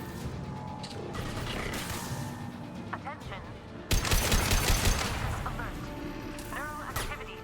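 Dense game gunfire from warp ammo in Mass Effect 2 on Xbox Series X, a steady clatter of shots with a sharp burst of louder impacts midway, layered over busy combat noise and effects.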